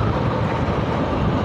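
A KRL commuter train rumbles steadily past at close range, a dense, continuous roar of wheels and carriage noise with no voices.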